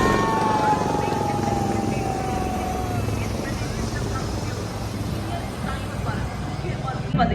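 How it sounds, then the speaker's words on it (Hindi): Indian Army LCH and ALH helicopters pass overhead in formation above the Republic Day parade on Kartavya Path in Delhi, a broad steady rotor rumble under continuous commentary. "भारतीय थल सेना के LCH और ALX मार्को हेलीकॉप्टर सलामी मंच के ऊपर से रुद्र फॉर्मेशन में गुजरते हुए"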